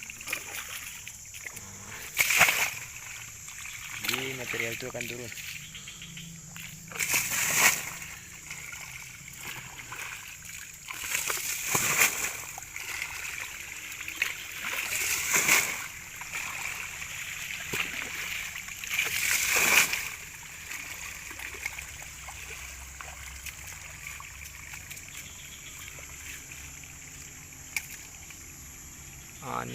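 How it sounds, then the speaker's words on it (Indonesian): Water splashes over gold-bearing material being washed at an old dig site, with sharp splashes every few seconds over a running trickle while someone talks. "Ini materialnya akan kita siram, kita bersihkan."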